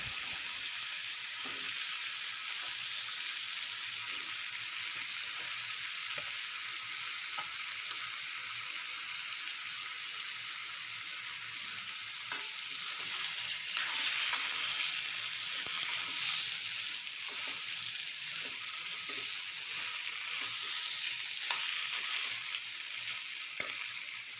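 A potato vegetable curry for misal pav bubbles and sizzles in a pan while a spoon stirs it, giving occasional soft scrapes and taps.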